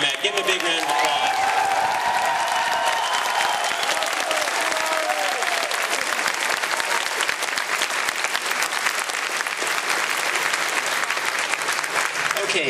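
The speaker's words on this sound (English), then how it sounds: "Give him a big round of applause." Loud, continuous applause from a big convention crowd greeting the keynote speaker at QuakeCon 2007, mixed with some cheering and crowd noise, holding steady for the whole stretch.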